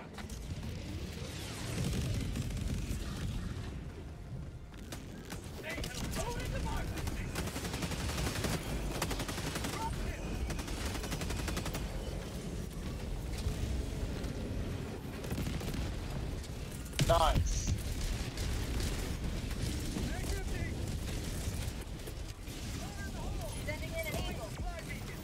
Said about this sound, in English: A lot of grenades.